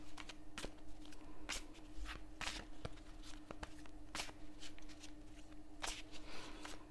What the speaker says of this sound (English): So I will shuffle the cards, and we will see where we go from here.